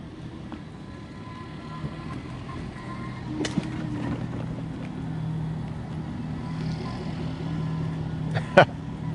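Motors of a Hoveround Teknique XHD heavy-duty powerchair drone low and steadily as it drives across grass, with a few faint clicks and knocks along the way.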